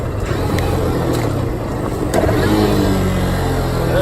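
Small Kawasaki Z125 motorcycle engine running loud and close, with a busy uneven drone and a slight rise in pitch partway through as the bike slows for a stop.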